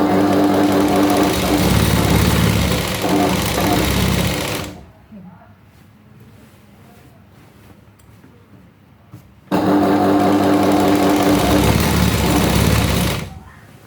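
A sewing machine stitches a petticoat in two loud bursts of a few seconds each, separated by a quieter pause of several seconds.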